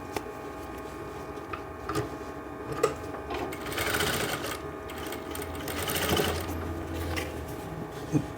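A sewing machine runs steadily while stitching the seam of a full-flare umbrella skirt, its close, continuous whirr swelling in short surges with a few sharp ticks, and no voices over it.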